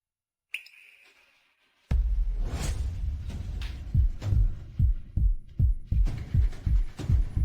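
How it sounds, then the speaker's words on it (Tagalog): A fast heartbeat sound effect thumps in a steady run of loud, close double beats after a brief opening tone and pause, with no voices over it. "Bakit bumibilis ang tibok ng puso ko at ang gulo ng isip ko?"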